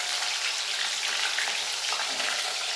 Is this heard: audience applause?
no